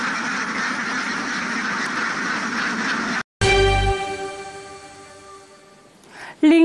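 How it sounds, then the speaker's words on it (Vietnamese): A flock of ducks quacks loudly and continuously near rice fields, then the scene cuts to another sound with a tonal jingle. "mỗi khi vắng tiếng kêu của vịt"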